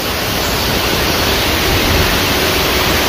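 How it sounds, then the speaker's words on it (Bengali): Palongkhiang waterfall crashing down into a natural rock pool, a loud, steady, dense roar of rushing water that fills the whole scene without a break. "আপনারা অবশ্যই ঝর্ণার শব্দ শুনতে পাচ্ছেন।"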